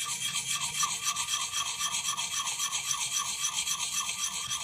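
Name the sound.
KME sharpening stone rubbed in circles on axe bevel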